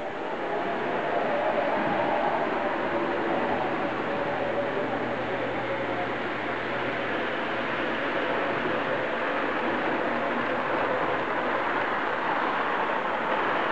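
Model train running along the main line of a home layout, a steady close rumble of wheels and motor with a low hum, continuous throughout without talk.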